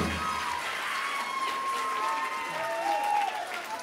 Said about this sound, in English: Give Jesus a great big hand clap tonight for all he's done